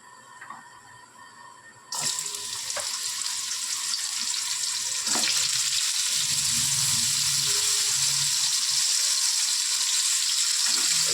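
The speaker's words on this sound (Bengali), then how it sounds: "এবার আমরা ভাজা করব গাজর" Carrots frying in a pan at a steady, close sizzle, starting abruptly after a quieter opening with a few clinks and growing a little louder partway through, with no talking over it.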